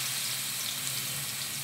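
Chopped ginger and garlic dropped into hot oil sizzle loudly and steadily, a dense, even crackling hiss with no talk over it.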